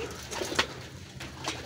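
Racing pigeons coo softly before feeding, with a few low murmuring calls close by in a quiet loft and no talk.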